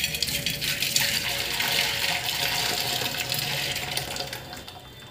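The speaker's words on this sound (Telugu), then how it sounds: "జల్లిగంటే ఇలా పెట్టుకొని వడబోసుకోండి మొత్తం నీళ్ళు పోయే వరకు" Hot water from boiled cauliflower pours through a strainer, a continuous loud splashing gush that tapers off slightly toward the end.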